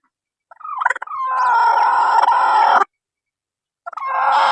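A broody hen sitting on eggs gives a short cluck, then a long, loud drawn-out call, followed by a pause and the start of another call.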